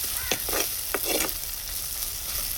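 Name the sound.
onions frying and sizzling in a pan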